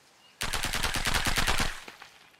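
Scoped rifle from a modded ARK video game firing a fast automatic burst of about a dozen sharp, evenly spaced shots, followed by a short decaying tail and one faint trailing click, with no talk.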